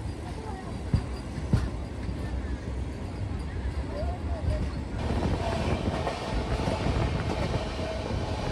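A passenger express train running on rails between Guwahati and Howrah, a continuous low rumble and rattle of carriages heard from inside, with occasional clanks and faint voices in the background.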